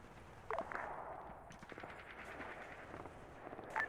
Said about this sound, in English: you know the explosions and the gunfire and the machine gun fire we can hear over to the east?